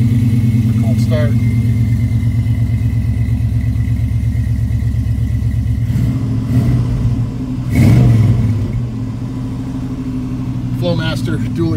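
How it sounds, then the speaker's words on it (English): A custom 1986 Chevrolet C10 Silverado with a stainless steel Flowmaster dual exhaust idles with a deep, steady rumble and builds into a louder rev near the end. A voice talks over the engine. "Flowmaster dual exhaust, stainless steel exhaust, custom."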